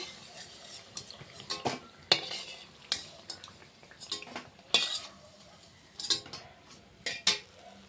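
Fried fritters, potato or pumpkin-flower, lifted out of a pan of oil: a series of sharp metal spatula clinks and scrapes against the pan over a faint, steady sizzle.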